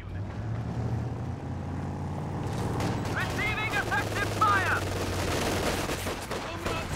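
PTRS anti-tank rifle fire mixed into a Company of Heroes 2 battle, with repeated gunshots and bursts of distant fire over a steady rumble of vehicles and combat, and a voice talking over it.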